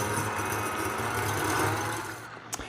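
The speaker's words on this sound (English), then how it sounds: "Let's whisk together 2 egg whites with an electric mixer until foamy." Electric mixer whisking two egg whites until foamy, a steady close motor whir with beaters churning, which cuts off near the end followed by a brief clatter.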